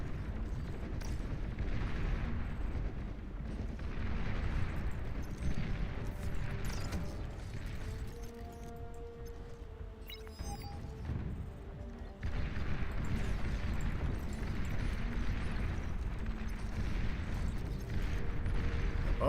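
Heavy rumbling explosions and crashing blasts from the real-time strategy game Beyond All Reason as a commander unit is destroyed, a loud sustained roar with a brief lull and tonal whine midway before the booming resumes.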